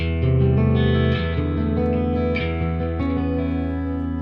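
A guitar played through a piezo pickup for an acoustic tone sounds sustained chords and notes, bright, clear and close, ringing with a slightly processed shimmer.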